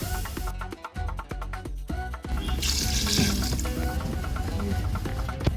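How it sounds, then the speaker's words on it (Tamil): Water is poured into a pot of chicken biryani made with thulasi rice, six tumblers in all. Clinks and handling sounds come first, then a continuous close splashing pour fills the second half. "இப்போ நான் 6 டம்ளர் அளவுக்கு தண்ணி சேர்த்துக்கிட்டேன்."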